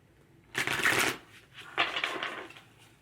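Tarot cards are shuffled in two brisk riffling bursts, close and crisp, with a short pause between them.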